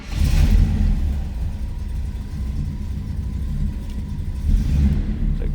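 A 1967 Oldsmobile Cutlass Supreme with a 455 big-block V8 rumbles loudly close by, with a deep idle swelling into revs at the start and again near the end.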